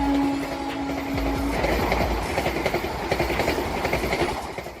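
Vande Bharat Express, a 16-coach fully air-conditioned chair-car high-speed train on Indian Railways, rolls past with a steady roar and rhythmic clickety-clack of wheels, a brief tonal hum at the start fading into continuous loud rumble.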